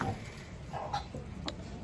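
Chickens let out a few short, soft clucks at a backyard coop in winter, the calls scattered and fairly faint over a steady low background hum.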